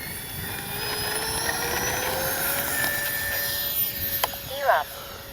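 A Freewing AL37 RC jet's ducted-fan whine holds steady and fairly loud throughout, a continuous airy roar, with a voice briefly talking near the end.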